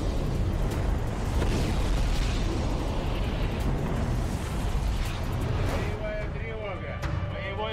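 Explosions rumbling and roaring in a dense, loud continuous wash of blasts and debris, with a voice speaking over the later part.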